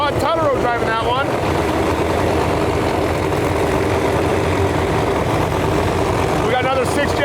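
Pro Mod drag racing Camaro from Decker Salvage, driven by Todd Tutterow, with a steady loud engine roar filling the whole stretch from the far side of the track, a commentator talking over it throughout.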